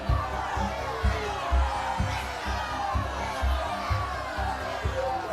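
An angry crowd shouts and jeers as it closes in around the prophet Jeremiah, dense overlapping voices with rhythmic low thumps and surges, a loud, continuous roar of agitated yelling.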